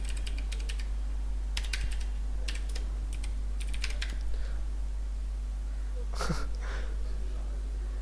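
Computer keyboard typed on in short bursts of quick clicks separated by pauses, close and clear over a steady low hum, with a brief breath or sniff near the end.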